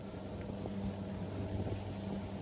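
A 2001 Grady White 282 Sailfish with twin 200-horsepower Yamaha engines runs on a sheltered bay, giving a steady, low engine drone with a hum and wind and water noise, and no talk.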